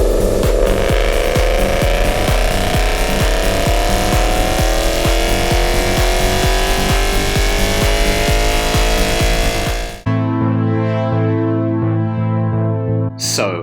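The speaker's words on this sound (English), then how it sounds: "I loved the fact that they also had a dyno right there on the show field, so you could hear those engines roaring all the way across the event" Ford Mustang engines run on a dyno on an outdoor Carlisle Ford Nationals car show field, one engine roaring and climbing steadily in pitch for about ten seconds before cutting to a lower, rumbling idle.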